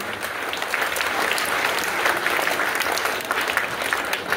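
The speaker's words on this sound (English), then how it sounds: "Everybody clap loudly." A school audience claps loudly for the top students at a results ceremony: a steady, dense patter of many hands that holds at an even level throughout, with no talking over it.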